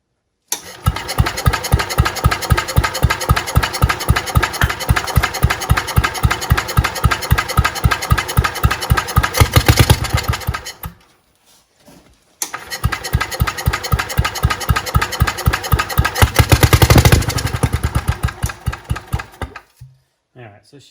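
An old engine, dormant for more than 35 years, fires and runs in loud rapid bursts for about ten seconds, cuts out briefly, then catches and runs again before stuttering off, with a nearby voice.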